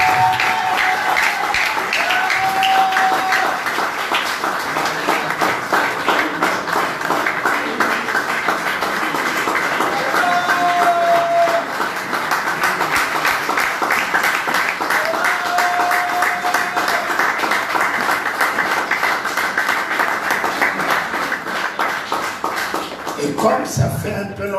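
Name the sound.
congregation cheering and applauding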